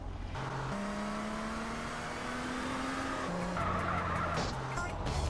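A car in GTA San Andreas skids while being parked, giving a sustained, close tyre squeal that shifts pitch a few times over a continuous engine drone.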